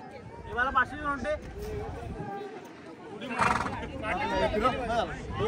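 A horse at Mahabaleshwar whinnies several times at close range, with a rider on its back, while people talk over it.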